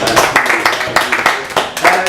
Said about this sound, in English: we'll give Ashton a little round of applause for the great geography round